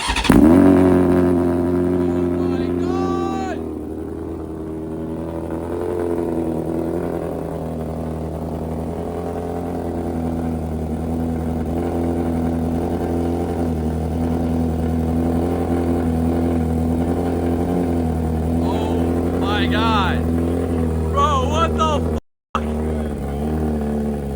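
A BMW M1000RR motorcycle fitted with a loud aftermarket exhaust fires up and settles into a steady, high, rumbling idle that runs throughout. Close and loud, with brief voices over it and a short drop partway through.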